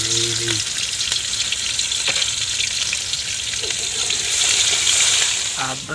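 Spices fry in hot ghee in a pot with a steady, close sizzle and bubbling hiss that swells slightly toward the end, while a voice speaks briefly at the start.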